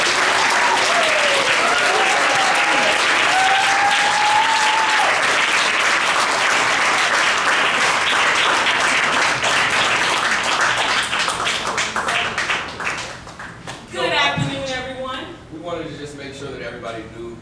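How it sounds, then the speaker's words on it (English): An audience at a university brown bag art talk applauds to welcome three faculty speakers, a loud sustained round of clapping that fades out near the end as a voice begins speaking. "I want you to do that with applause"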